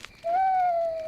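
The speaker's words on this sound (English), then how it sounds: "It's an owl." A single owl hoot in a cartoon, one sustained tonal call that rises and then slowly glides down, heard alone and fairly loud.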